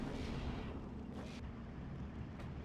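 Units fire their weapons in the World War II strategy game Steel Division 2. Muffled, distant booms and rumbling gunfire blasts sound in several broad bursts over a dense, continuous battlefield roar.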